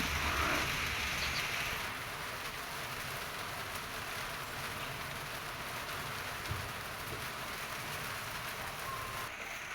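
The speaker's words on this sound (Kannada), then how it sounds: "ಸಂಜೆ ಫುಲ್ಲು ಮೋಡ ನೋಡಿ ಯಾವ ಥರ ಇದೆ ಮೋಡ ಅಂತ ಮಳೆ ಹನಿ ಸ್ಟಾರ್ಟ್ ಆಗಿತ್ತು" Steady rain falling, a constant hiss of drops on surfaces that continues evenly throughout without pause.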